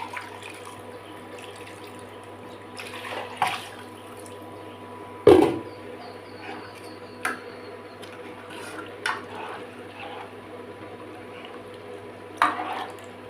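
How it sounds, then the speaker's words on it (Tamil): A mixer grinder jar is rinsed under running water in a home kitchen, a soft continuous trickle broken by several sharp splashes and knocks as the jar is swirled and handled. "மிக்ஸி ஜாரத்தை தான் கழுவி போட்டு வைக்கிறேன்."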